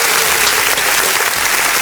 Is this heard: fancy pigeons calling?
no